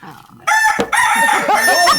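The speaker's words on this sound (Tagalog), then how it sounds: "Nahimas mo na ba, Vernon, yung ating tandang dyan? Pagugahan mo na ba" A rooster crows loudly and close, one long strident cock-a-doodle-doo that cuts in sharply after a brief quieter stretch and holds to the end.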